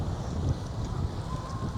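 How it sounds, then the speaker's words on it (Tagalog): Strong wind in front of a church at Oslob, Cebu, buffets the microphone with a constant low roar and gusty rumbling, loud and close, with faint wave-like wash behind it. "Napakalakas ng hangin"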